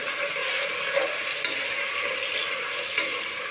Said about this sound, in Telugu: కొంచెం పసుపు వేసి కొంచెం బాగా ఫ్రై చేసుకుంటాం.